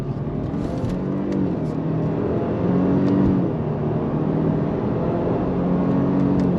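A Subaru WRX with an automatic transmission accelerates hard under throttle from inside the cabin, a loud engine drone rising in pitch then dropping at each paddle-shifted simulated gear change, repeating several times over steady road noise.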